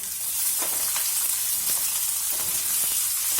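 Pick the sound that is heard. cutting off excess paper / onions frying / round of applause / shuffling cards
onions frying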